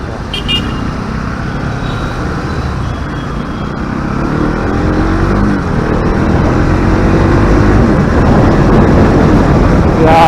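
A Pulsar NS200 motorcycle engine drones under wind rush, growing steadily louder as it rides through a corner.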